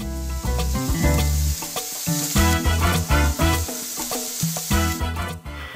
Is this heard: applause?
no